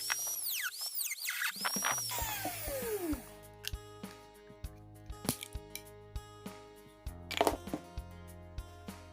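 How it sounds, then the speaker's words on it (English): A rotary tool carves an opening in a large bamboo tube: a high whine spins up and fades, then a run of sharp scraping and tapping bursts against the wood, close and at moderate level, with no voices. "I'm going to use a rotary tool to carve an opening in this bigger bamboo tube."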